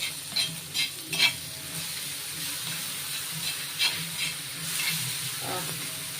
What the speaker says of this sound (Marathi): मिक्सरला वाटण केलेलं आहे ते वाटण घालून घ्यायचं म्हणजे याच्यामध्ये आपण टमाटर वगैरे सगळं घातलेलं आहे तो मसाला आपण इथे घालतोय ही पेस्ट आहे ती सर्व घालून घ्यायची तिकडे हलवते थोडं